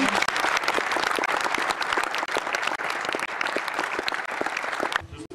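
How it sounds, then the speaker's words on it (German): Audience applause at a charity tennis event: dense, sustained clapping from a crowd that stops abruptly near the end. "da möchte ich einen kurzen Applaus für die Dani geben"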